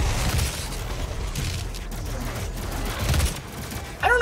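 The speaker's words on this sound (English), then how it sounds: "I don't know what's shooting at what here" Repeated gunfire and impact bursts in the video game DOOM, a busy barrage of overlapping shots and booms rolling steadily across the whole stretch at moderate loudness.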